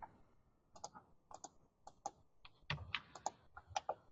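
Quiet, irregular clicks of typing on a computer keyboard: short bursts of keystrokes with small pauses between them, close and alone.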